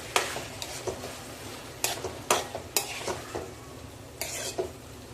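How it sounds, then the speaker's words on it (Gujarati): A spatula stirring tomatoes in a pan for pav bhaji, irregular scraping strokes and soft clatters over a faint low sizzle, nearby and fairly quiet. "હવે આની અંદર ટામેટાં નાખીશું, અને બરાબર રીતે હલાવી દઈશું।"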